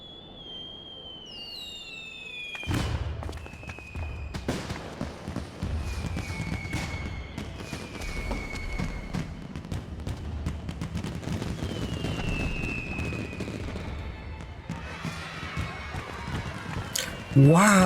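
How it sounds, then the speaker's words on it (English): Fireworks in the Final Fantasy XIV video game, whistling upward and popping repeatedly over a steady crackling din, with rumbling bursts throughout. "So many explosions. They're like flowers blooming."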